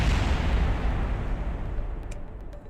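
A rocket launch vehicle blows up in a spaceflight building game, a dense continuous roar of explosion and rumble that stays loud for the whole stretch, with a few faint crackles high up near the end.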